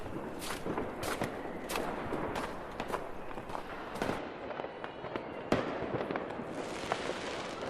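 Fireworks set off by families and groups around Berlin at night: a steady crackle of distant and mid-range bangs and pops, with sharper close reports standing out against the rolling background.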